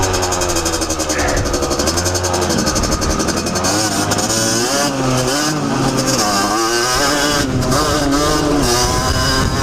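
A motorcycle engine accelerates while being ridden during break-in, its pitch sweeping up and down through repeated revs and gear changes, loud and close with a continuous rasping tone.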